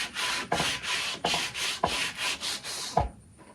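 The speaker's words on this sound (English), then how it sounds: "I'm going to sand this down." Dogwood arrow shaft being sanded by hand with a 50 grit sandpaper block, close and clear: about eight rhythmic rasping strokes, each a gritty swish, with a final harder scrape before the sound stops.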